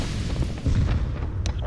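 A thrown incendiary grenade bursts into flame in Counter-Strike: Global Offensive, a deep rumbling whoosh of fire that swells and roars low and close, with a few faint clicks near the end.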